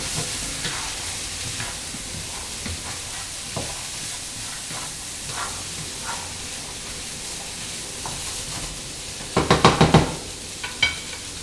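Aromatic vegetables sizzle in a frying pan while being stirred, a continuous close hiss with scattered scraping, ending in a brief burst of louder clattering stirring near the end.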